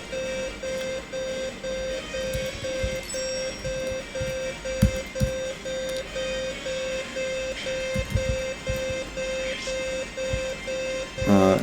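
Steady electronic beeping pulses at an even rhythm throughout a Xenogears game session, clear and continuous, with light clicks and a brief burst of game sound at the end.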